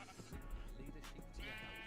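Sheep bleating in the Minecraft video game, a few short game-sound cries over steady background noise, moderately loud with no talk over them.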